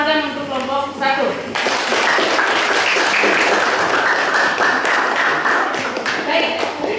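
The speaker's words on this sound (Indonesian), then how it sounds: "Kita beri aplaus penghargaan untuk kelompok 1" A classroom of students breaks into loud, sustained group clapping for a presenting team. A teacher's voice is heard briefly just before the clapping swells and continues steadily to the end.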